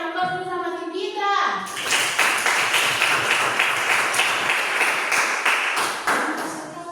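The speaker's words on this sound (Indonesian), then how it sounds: "Berikan aplaus dulu sama tim kita" Classroom applause from students for their team, many hands clapping in a steady dense patter that starts abruptly after a short bit of voices and continues loudly to the end.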